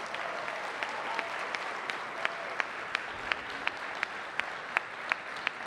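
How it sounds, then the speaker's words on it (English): Audience applause fills the hall after a middle school jazz ensemble finishes its set at a spring jazz night, a steady wash of many hands clapping at moderate level with a few sharp, distinct claps standing out. "One more round of applause."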